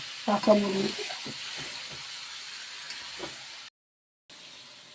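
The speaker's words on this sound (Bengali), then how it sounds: "আদা রসুনের সাথে মুরগিটা সুন্দর করে ভাজা নেব" Chicken pieces fry with ginger and garlic in a hot pan, giving a steady close sizzle; a voice speaks briefly near the start, and the sound cuts out for a moment near the end.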